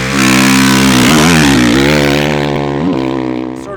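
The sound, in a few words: 2010 Honda CRF450R motocross bike engine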